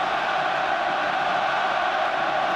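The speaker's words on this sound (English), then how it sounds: "with the crowd roaring them on" A stadium crowd at the 2014 Six Nations rugby union match between Ireland and Wales roars continuously, a loud, wide wash of massed voices holding steady throughout.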